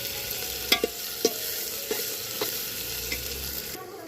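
Onions frying in hot oil in a pan for a village-style chicken curry, with a steady close sizzle and a few sharp scrapes and clicks of stirring spaced through it.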